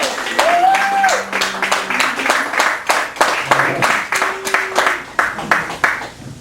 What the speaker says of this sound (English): I want a big screaming round of applause for Jean